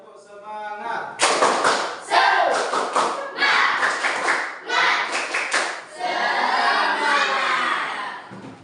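A classroom group performs an Indonesian spirit clap again, with loud rhythmic bursts of clapping and thumps in repeated patterned sets. Children shout and chant along between the bursts, ending in a sustained group vocal cheer.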